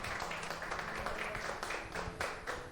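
A church congregation claps together at an evening blessing service in Rio Negro, Paraná, a dense, steady wash of many hands filling the room continuously.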